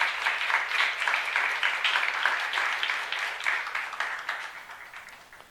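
A church youth congregation claps together in a dense, sustained wave of applause that holds evenly for several seconds before tapering slightly, with no voices over it.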